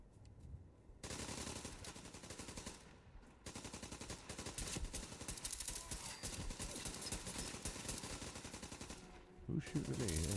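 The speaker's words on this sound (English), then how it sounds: "Who's shooting at me?" Automatic gunfire in Fallout 4 rattles in long rapid bursts, loud and continuous, broken by short pauses between volleys.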